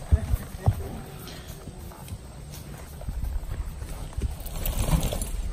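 Horse hooves clip-clop at a walk outdoors, scattered irregular thuds of varying loudness over a steady background, with faint voices now and then.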